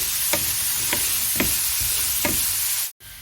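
Chickpeas and corn frying in a pan with steady sizzling, broken by several distinct scraping stirs of a utensil, close up with no voices.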